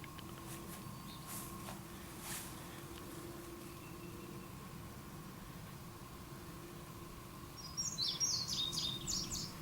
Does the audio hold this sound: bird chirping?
yes